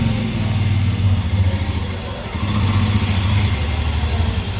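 A Royal Enfield Scram 411 motorcycle engine with a starting issue and ticking engine noise, running at a steady, loud, close-up idle with a low throbbing pulse and a slight dip in revs midway.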